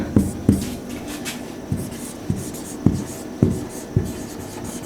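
Marker strokes on a board come in quick, repeated squeaky taps and scratches at an uneven rhythm, close and fairly loud, with no talking.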